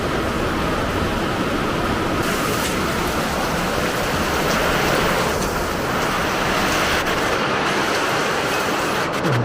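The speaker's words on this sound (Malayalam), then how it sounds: "നല്ല കാറ്റും മഴയതാ രാത്രിയിലും." Heavy rain roaring continuously with gusts of wind at night, loud and steady throughout with a slight rise and fall.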